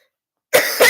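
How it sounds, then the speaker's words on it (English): A person gives two sharp, close coughs in quick succession after a moment of silence. "For some reason, I'm coughing."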